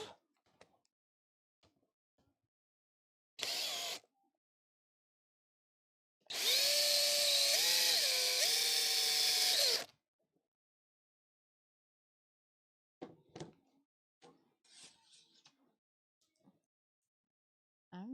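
A power drill tightens a part in place in two whirring bursts, one short and one longer run lasting about three seconds with a shifting motor pitch, close and loud amid quiet handling noises.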